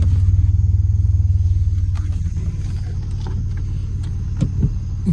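Steady low rumble with a rapid pulsing drone from a Chevy Blazer while the brake is applied, strongest at first then settling, with a few faint clicks and creaks near the end; no talking.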